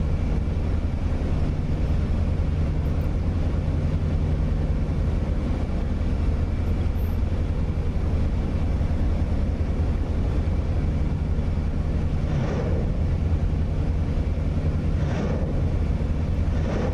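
A damaged WWII propeller fighter in the DCS flight simulator cruises over the Saipan area in the Marianas, its steady, droning engine hum sustained at moderate volume throughout with no talking.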